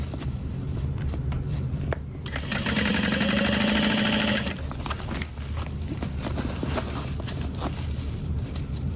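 A foot-pedal sewing machine stitches a carry-all bag in one short whirring burst of a second or two, surrounded by duller background rumble and handling noise.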